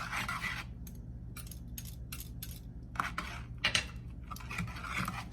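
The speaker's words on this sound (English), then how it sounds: "we're just gonna keep mixing this" Ice cream base with vanilla being stirred in a bowl, a series of irregular metallic clinks and scrapes of a utensil against the bowl, close and clear over quiet background, with short pauses between strokes.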